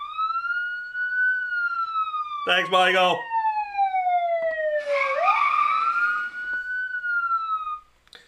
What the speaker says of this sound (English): Need to hit the siren.